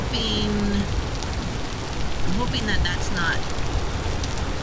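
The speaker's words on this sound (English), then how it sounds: "the rain, even though it's beautiful, is distracting me" Rain in the Vintage Story video game, a dense steady patter of drops on surfaces that hisses loudly throughout, with a person talking briefly over it and a few faint chirping tones.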